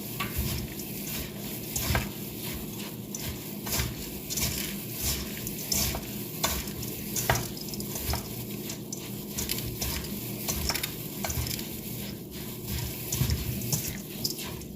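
A rice mixture for stuffed grape leaves is stirred in a bowl, producing continuous close wet scraping and squelching with irregular clicks of the spoon, no voices.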